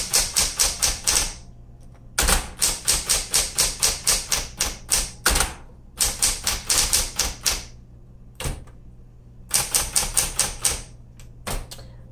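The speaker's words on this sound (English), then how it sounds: "especially on these electric typewriters, there are usually three keys that you can hold down and it repeats, does a quick repeat" A 1970s hot pink Smith Corona Electra 220 electric typewriter typing in quick bursts of crisp, even keystrokes separated by short pauses, close and loud with no one talking.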